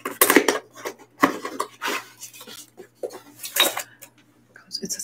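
A ceramic wax warmer handled up close, with a series of sharp clinks and knocks against hard surfaces and a voice speaking quietly between them.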